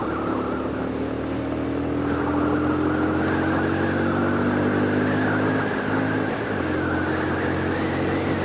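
A Lexmoto motorcycle rides along a road, its engine droning steadily throughout with a slight shift in pitch partway through as the gear changes, wind and road noise continuous underneath.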